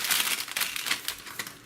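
Close, bright crinkling of plastic packaging being opened around an iPhone 7 case, a short burst of rustles and crackles.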